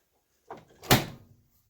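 Samsung washing machine door, newly rehung, swinging shut: a soft first knock, then a sharper, louder clunk as it latches, fading quickly into silence.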